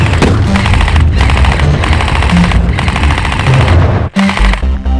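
Loud airsoft gunfire in a skirmish: dense bursts of rapid automatic shots crackle almost nonstop, close and harsh, broken by one brief gap near the end before firing resumes.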